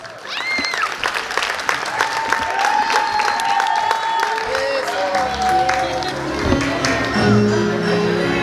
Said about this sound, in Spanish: Fuertes los aplausos para los novios.